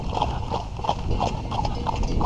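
A heavy mare's hooves clip-clop in a steady walking rhythm on a countryside trail ride, close and clear, with regular evenly spaced beats throughout.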